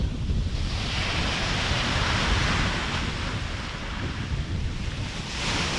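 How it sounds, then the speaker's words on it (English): Rough sea surf rolls steadily onto Samai Beach on Koh Larn island near Pattaya, a continuous loud wash of breaking waves mixed with wind buffeting the microphone. "You see the sea is really rolling in this morning."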